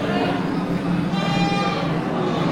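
A sheep or goat bleats in a wavering call amid a busy, noisy background of livestock and murmuring at a goat and sheep market.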